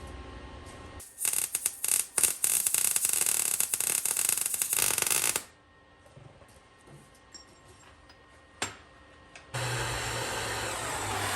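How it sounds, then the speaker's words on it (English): A torch heats the cast suspension part of a 1999 Ford F250 to loosen bolts, roaring loudly for several seconds, falling quiet with a faint hum, then starting up again near the end. "I will heat up the surrounding casting just to try to help break those loose"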